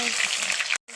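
Onion hits hot oil in a wok for a local chicken curry, giving a loud, dense sizzle that holds steady before a brief cut and then resumes.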